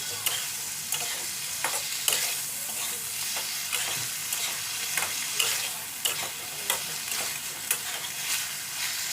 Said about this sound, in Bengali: লেবুটা দিয়ে এবার এর মধ্যে একটু মিশিয়ে নেবো